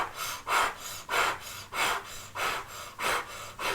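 Rhythmic forceful breathing during a breathing exercise, with about eight strong sharp exhales at a steady quick pace, close to the microphone and with no speech.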